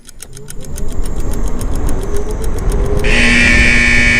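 An Ola S1 Air electric scooter accelerates at full throttle in a 0 to 40 test, its electric motor whine rising steadily in pitch over road rumble, then jumping to a louder, sharper high tone near the end.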